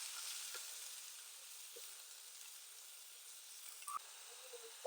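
Cumin and onion sizzle in hot oil, a soft steady frying hiss with a few faint clinks, quiet and close.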